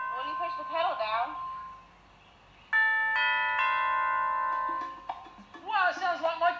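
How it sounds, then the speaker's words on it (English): Bright percussion chimes played with a pedal ring out and sustain like a doorbell, layered bell notes held for a few seconds between stretches of people talking. "it sounds like my doorbell at home"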